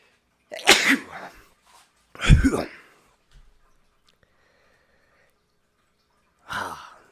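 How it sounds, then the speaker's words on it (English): Two sharp sneezes about a second and a half apart, followed after a pause by a softer breathy exhale or sniff. "Trying to make sure the sneeze is done"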